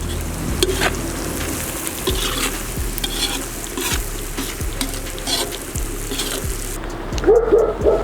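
Meat with khmeli-suneli stews and sizzles in a kazan, with a steady frying hiss and a spoon scraping the pot in regular strokes about once a second, close and fairly loud.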